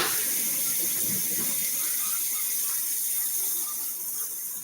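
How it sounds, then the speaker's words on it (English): Tap water runs steadily into bottles at a kitchen sink, a continuous close rushing splash that softens slightly near the end. "I am going to fill up these bottles with water"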